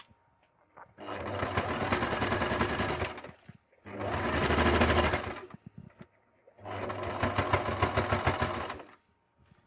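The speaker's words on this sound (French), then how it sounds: "Donc là, la machine tape un petit peu. Il commence à y avoir beaucoup d'épaisseur." A domestic sewing machine straight-stitching through thick layered fabric for a Christmas stocking, running in three sustained bursts of rapid mechanical hammering separated by short pauses, close and clear.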